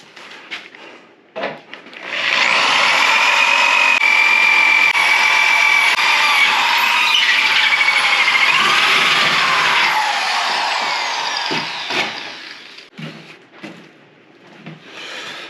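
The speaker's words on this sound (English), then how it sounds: "we're just switching out to a little bit bigger drill bit" A power drill with a larger bit whines steadily for several seconds as it enlarges holes in a Toyota FJ Cruiser for a snorkel, pitch dipping under load, then a few clicks and scrapes as it stops.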